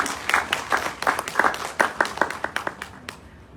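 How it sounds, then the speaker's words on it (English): A small audience at a doctors' awareness session on cervical cancer applauds a panelist, with distinct, fairly sparse claps that thin out and fade over a few seconds. "Can you please give her a round of applause?"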